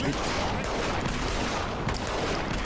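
Pistol gunfire in Saints Row: The Third, a dense, continuous volley of shots from several shooters at once, loud and sustained with no clear gaps.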